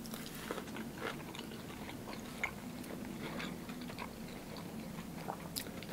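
Faint close-up chewing on a crunchy sushi roll with jalapeno and asparagus at a restaurant in Fair Lawn, NJ: soft, steady bites and crunches under low room noise.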